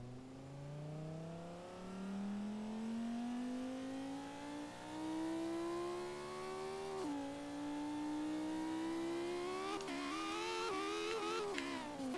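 A Bugatti fitted with a Reliant engine in Forza Horizon 3 revs continuously, its engine note climbing steadily in pitch toward 10,000 RPM, with a brief dip around the midpoint and rising harmonics near the end, loud and alone.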